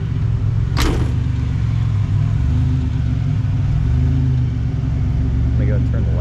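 A 1986 Buick Grand National's engine idles with a loud, steady low rumble throughout, with a short sharp noise near the start and brief voice-like sounds near the end.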